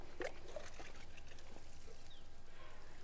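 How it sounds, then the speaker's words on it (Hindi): Water is poured over soil in a grow bag holding a tomato plant, a faint steady trickle and dribble that runs quietly without a break. "ऊपर हम दे देंगे पानी दोस्तों नीचे ये रिस के ये चला जाएगा"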